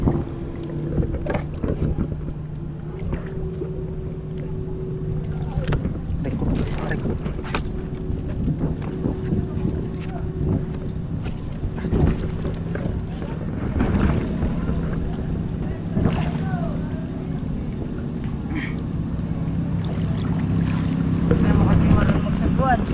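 A small wooden boat pushing through street floodwater in the Philippines with steady sloshing and wind rumble, occasional splashes, voices faintly in the background.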